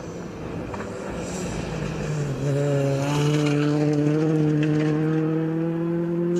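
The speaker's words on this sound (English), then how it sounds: "That's Chris Coley and Ricky Finlayson there. Going through" A rally car on special stage 7 at Little Balloch, its engine rising from a distant approach to a loud, sustained high-revving drone as it passes close by, with no voices.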